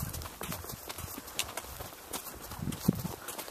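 A horse walks outdoors carrying a rider, hooves clip-clopping in a steady, faint rhythm under wind and scuffing, with no talk.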